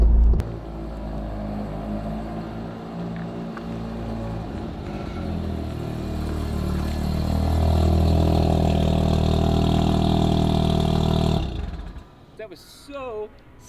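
A Corvette fitted with a rotary engine runs close by with a steady, rumbling idle that swells louder midway, then cuts off abruptly near the end, followed by brief faint sounds.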